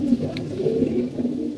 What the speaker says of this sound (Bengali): কবুতরগুলো আপনাদের দেখাই